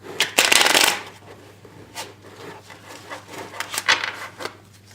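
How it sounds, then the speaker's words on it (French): Playing cards riffled and shuffled in the hands, off the table: a loud dense burst of flicking at the start, then a string of softer, uneven shuffling rustles close by. "j'ai encore du mal avec les mélanges qui sont pas sur la table"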